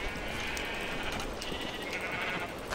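Sheep bleat repeatedly in the Minecraft video game, several close, nasal calls overlapping over a steady noisy background, with no talking.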